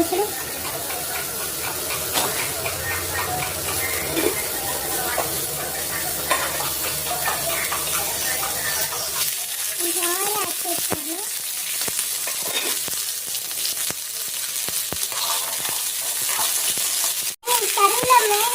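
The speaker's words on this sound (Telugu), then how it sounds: "ఉల్లిపాయ ముక్కలు వేసేసుకున్నాం, అవి బాగా వేగినాయి కదా" Sliced onions with curry leaves, coriander seeds and whole spices frying in oil in a pan, with a steady close sizzle, occasional stirring scrapes and a brief gap near the end.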